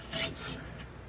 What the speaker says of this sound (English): So let's put our foam back in.